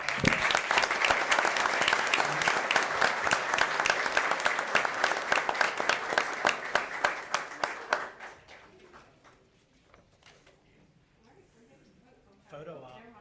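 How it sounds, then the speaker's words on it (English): Round of applause from attendees at the Harrisburg town council meeting, steady dense clapping for about eight seconds that thins out and fades, followed by faint voices in the room. "Let's give them a round of applause."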